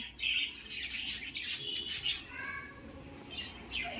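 Pet birds kept downstairs in a home call out with several sharp squawks and high chirps, close and moderately loud, spread unevenly across a few seconds with no speech.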